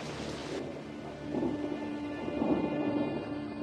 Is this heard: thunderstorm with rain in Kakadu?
yes